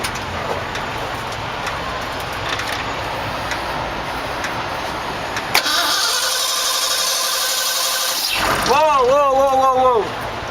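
A car engine with a damaged Holley 4-barrel carburetor that is leaking gas cranks and restarts under a steady wash of noise, then revs up and down near the end while voices talk.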